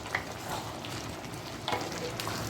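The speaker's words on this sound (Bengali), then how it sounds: "ভালো করে আদাটাকে নাড়িয়ে দিচ্ছি, মিশিয়ে দিচ্ছি।" Ginger being stirred into vegetables frying in a pan for a vegetarian mixed-vegetable dish, a soft steady sizzle with a few light scraping strokes of the spoon, close and fairly quiet, no talking.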